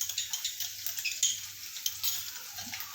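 Finely chopped garlic sautéing in hot oil in a pan while making macaroni pasta, a soft crackling sizzle with light scraping and stirring taps close by, no talking.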